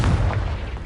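Confringo fire spell blasting in Hogwarts Legacy, a loud low boom with a rumbling burst that stays heavy through the short moment before easing slightly.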